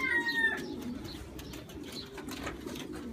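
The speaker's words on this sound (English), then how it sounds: "I still get some birds flying around." Racing pigeons coo softly at a loft, low repeated cooing notes with faint wing flutters and a few brief higher chirps at the start, fairly quiet and close.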